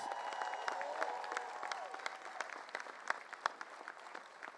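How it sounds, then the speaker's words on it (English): A crowd at a college commencement ceremony gives a round of applause for Latasha, a full, sustained clapping from many hands with scattered sharper claps, set back in a large space and moderately quiet. "I think we need to give her a super duper round of applause"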